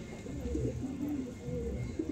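Domestic pigeons kept at home coo softly and close by in low, rolling murmurs that run through the whole moment without any talk.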